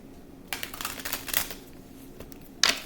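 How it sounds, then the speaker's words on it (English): Tarot cards being shuffled in quick riffling bursts, a dense rustle for about a second, then scattered light slaps and a final crisp snap of cards, close by with no talking. "Let me do a quick shuffle."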